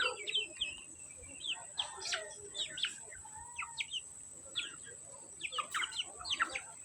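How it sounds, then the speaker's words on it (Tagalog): Chickens in a backyard flock call and cluck in scattered bursts, with sharp chirps and short clucks repeating close by, fairly loud against a quiet background. "Mauni tanan atong manok, guys."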